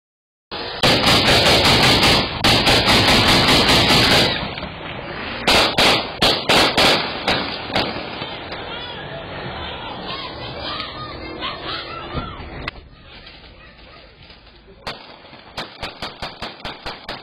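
Rapid loud cracking bursts in fast clusters, then scattered sharp pops and a final quick string of shots, gunfire outdoors outside a nightclub in Greensboro.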